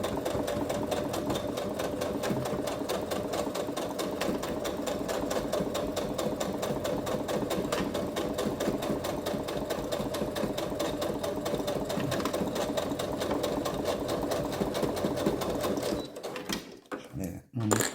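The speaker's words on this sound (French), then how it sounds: "Je vais coudre au bord de mon tissu," Sewing machine running continuously at a steady, loud whirr, stitching forward and backward along the edge of leather fabric for a small Christmas pouch, stopping near the end; someone speaks over it.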